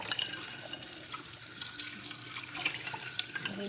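A kitchen tap runs in a steady, strong stream into a sink while dishes are washed, with faint splashes and small clinks layered over the constant water noise and no voices.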